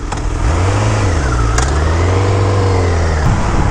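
A new sport motorcycle revs up close and loud, shifting gears at moderate revs. The engine note climbs, drops at each change and climbs again, over wind and road noise.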